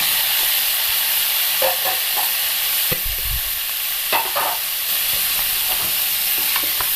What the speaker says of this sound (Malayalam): അതിലേക്ക് അരിഞ്ഞു വെച്ചിരിക്കുന്ന തക്കാളിപ്പഴം ചേർക്കാം.